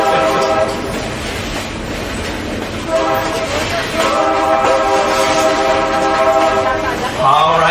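Stone Mountain's 350-ton excursion train rumbles along steadily at slow speed, its wheels clattering under a continuous tonal hum, with a sharper shift near the end.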